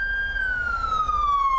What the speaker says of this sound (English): An ambulance passing by here